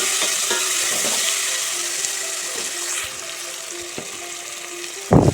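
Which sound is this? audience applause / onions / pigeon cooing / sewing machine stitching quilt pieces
onions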